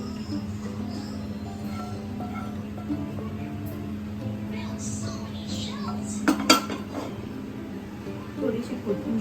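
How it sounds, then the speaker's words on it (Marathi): Butter garlic mushrooms are scraped and spooned from a pan into a serving dish, soft clinks and utensil scrapes over a steady kitchen hum, with a couple of brighter metallic knocks near the end and a voice in the background. "आपण हे सर्विंग डिशमध्ये काढून घेऊया."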